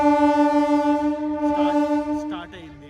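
A Gudur to Vijayawada MEMU passenger train sounds a steady, loud horn-like tone at the start, with rumbling running noise beneath and some voices breaking in near the end.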